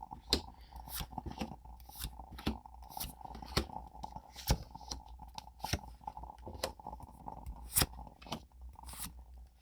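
Tarot cards are shuffled by hand, giving a quiet series of crisp flicks and snaps at an uneven rhythm, close up, with no talking.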